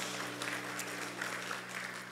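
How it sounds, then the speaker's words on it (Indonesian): Congregation applause at an evening worship service in a church, a steady, moderately loud wash of clapping that continues throughout with a low sustained tone underneath. "Beri tepuk tangan buat Tuhan Yesus."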